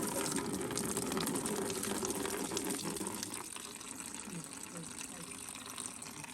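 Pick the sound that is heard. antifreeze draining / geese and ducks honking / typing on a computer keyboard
antifreeze draining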